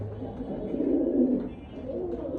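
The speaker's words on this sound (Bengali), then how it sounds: "ছাড়ার সাথে সাথে কী পরিমাণ ডাকাডাকি করতেছে দেখেন দুই ডাকের কবুতর একসাথে" Domestic pigeons coo steadily just after release, a low throaty burbling that swells in the middle and carries on at close range with no talk.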